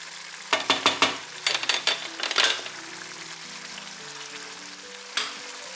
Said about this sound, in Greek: Αφήνουμε λίγο να εξατμιστεί το αλκοόλ για να μείνει μόνο το άρωμα του